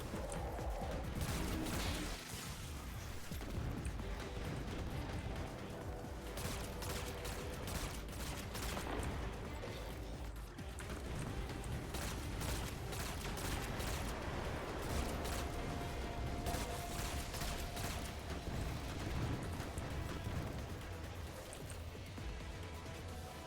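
Hand cannon fire in a video game, a dense, continuous stretch of loud gunfire and crashing impacts that runs steadily for the whole span with no clear pauses.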